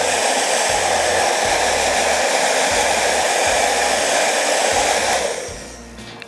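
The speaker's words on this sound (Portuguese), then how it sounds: "Com auxílio de um secador, eu vou secar para ficar mais rápido." A hair dryer blows steadily at close range over white-painted cardboard, a loud continuous airy roar with a low motor hum that cuts off near the end.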